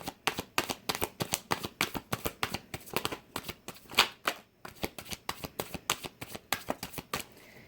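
Tarot cards being shuffled by hand, a rapid run of crisp riffling flutters and slaps repeating steadily for several seconds, close and clear.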